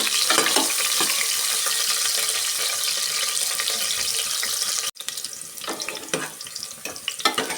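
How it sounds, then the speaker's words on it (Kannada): Onions frying in hot oil for a mutton saru, a dense continuous sizzle close up with a brief cut midway, then scattered stirring scrapes over the hiss. "ಚೆನ್ನಾಗಿ ಫ್ರೈ ಮಾಡ್ಕೊಬೇಕು ಈರುಳ್ಳಿನ."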